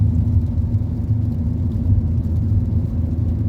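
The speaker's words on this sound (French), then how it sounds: "Vous entendez surtout le bruit du moteur." Low, steady engine rumble and road drone heard from inside a moving car on a rainy day, constant and fairly loud with no talking.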